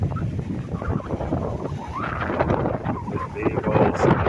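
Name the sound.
strong wind at the beach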